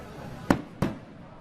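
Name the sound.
fireworks display over a country town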